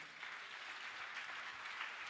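A church congregation claps and applauds for Jesus in steady, dense applause that fills the room, heard without voices on top.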